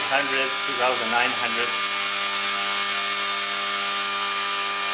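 A Gaui Hurricane 200 EP electric RC helicopter hovers indoors, its rotor and motor making a steady, loud, high tonal whine throughout; someone talks briefly over it at the start.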